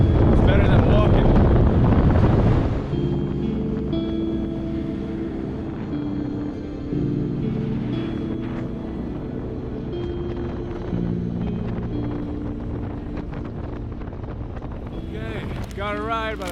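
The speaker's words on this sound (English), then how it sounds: "Got a ride by a motor taxi for free." Steady wind rush and a droning motor while riding as a passenger on a motor taxi, loud and continuous after a brief opening burst, with a faint voice near the end.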